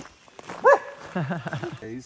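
A dog gives one sharp, close bark along the Appalachian Trail, followed by people talking nearby.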